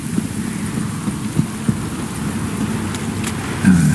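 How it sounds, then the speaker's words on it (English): Steady rain falls in The Witcher 3: Wild Hunt, a dense constant hiss with faint low rumbles and a few soft thumps, no voices over it. "Don't stop raining, my arse will rot off."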